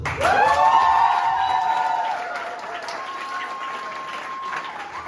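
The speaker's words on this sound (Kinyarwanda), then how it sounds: "I think we should give ourselves a big round of applause." An audience at a graduation ceremony applauds with a loud, sustained high vocal cry riding over the clapping, which swells at the start and slowly fades after about two seconds.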